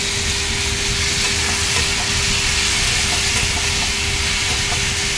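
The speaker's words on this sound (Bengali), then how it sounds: "তার মধ্যে আমি আলু একটা কেটে দিয়েছি, দিয়ে আলু কচুরমুখিটা ভালো করে কষাবো।" Potatoes and taro (kochu mukhi) sauté in a pan with a loud, continuous sizzle and hiss, heard close and steady throughout without any talking.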